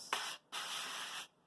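Cooking spray hisses from a can onto a pie tin in two close, quiet bursts: a short puff followed by a longer, even spray.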